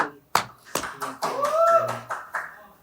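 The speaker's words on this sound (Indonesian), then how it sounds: "Keren, tepuk tangan" A few sharp hand claps ring out in a small group at an Indonesian podcast recording, isolated bursts with people chattering and laughing over them.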